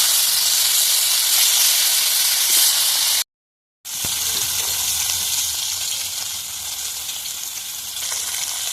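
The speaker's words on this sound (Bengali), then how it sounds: "এবার মাছগুলো ভেজে ফেলি" Fish fry in hot oil in a home kitchen wok, a loud steady sizzling hiss close up that cuts out briefly and then carries on without any talking.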